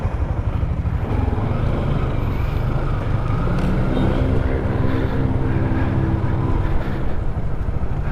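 Motorcycles ridden by the 01 Squad, a Filipino rider group, rumble and drone steadily and fairly close for several seconds at a meet-up in Ilocos Sur, with the engine note building toward the end.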